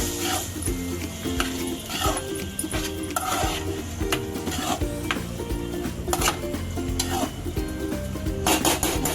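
Steady scraping and stirring of stuffed eggplant curry with hot water in a pan, continuous and close, with light clinks and a faint sizzle underneath.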